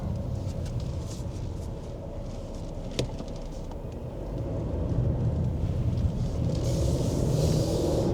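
An SUV of 257 horsepower and 400 Newton meters rumbles steadily from inside the cabin while turning around on a test drive, a low continuous engine and road drone that swells slightly louder toward the end.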